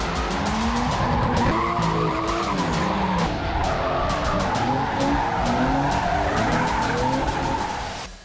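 Cars drifting at Drift City Cape Town, tires skidding and squealing in a loud, continuous wail over roaring engines, sustained from start to finish with no one talking.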